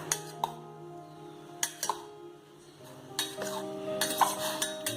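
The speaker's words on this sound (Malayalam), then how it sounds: "ഇനി നമുക്കിത് ഇളക്കി കൊടുക്കാം." A spoon stirs pineapple pieces in a pan while making syrup, giving a few soft metallic clinks and scrapes spaced irregularly, close and fairly quiet, with no talking.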